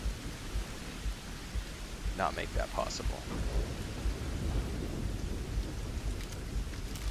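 Steady rain pours with rumbling thunder in the Starfield game, a continuous loud wash of rainfall with low rolling booms, while someone talks briefly over it.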